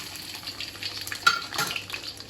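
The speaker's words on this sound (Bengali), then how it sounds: "আমি রসুনটা দিয়ে একটু বেজে নিই" Garlic frying in hot oil for an olive pickle, a soft steady sizzle with faint stirring and a light clink of a utensil against the pan partway through.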